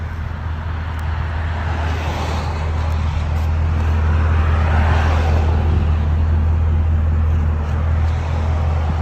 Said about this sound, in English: Nice idle, not too loud. Flow FX makes it nice and deep.